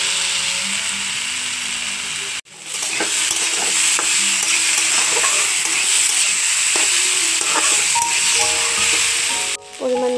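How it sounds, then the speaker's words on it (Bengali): Spice masala sizzling in a pan while being stirred, steady frying hiss with repeated scraping of a spoon against the pan, close and clear, with brief pauses in the sizzle. "মশলাটা ভালো করে একটু কষাতে হবে।"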